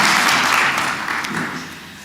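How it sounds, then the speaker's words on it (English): Applause from a congregation at a Unity Church celebration of life service, a steady wash of many hands clapping at once, fairly loud and fading slightly toward the end. "You're allowed to clap in the Unity Church"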